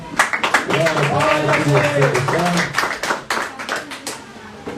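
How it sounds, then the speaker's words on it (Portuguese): A church congregation claps along in a rhythmic, dense patter, close and lively, while a voice carries on over the clapping throughout. "Se o irmão puder aplaudir, pode aplaudir."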